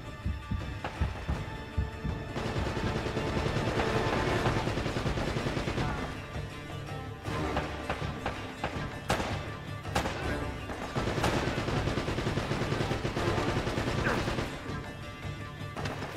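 Gunfire in the Uncharted: Drake's Fortune video game: dense, continuous bursts of rapid shots and crashing impacts, loud and sustained throughout with no pause.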